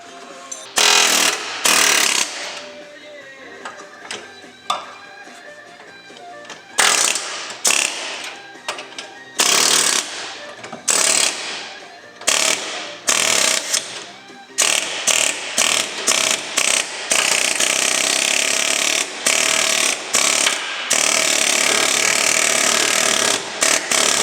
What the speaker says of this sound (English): And he gets the air hammer stuck.